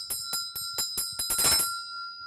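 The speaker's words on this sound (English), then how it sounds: "So we play the bell." Ritual bell rung during tantric Buddhist practice: a quick series of about seven bright, ringing strikes at an even pace, building into a fuller shimmer before a long, clear tone fades out.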